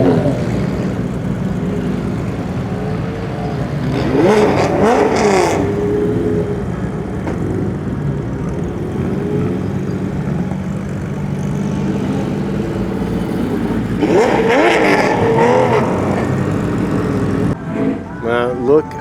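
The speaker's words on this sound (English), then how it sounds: "This 996 GT3 sounds evil." Porsche 996 GT3 race car engine rolling out in a pit lane at a Japanese race series event, a steady loud engine drone with two louder revving swells partway through, with people talking over it.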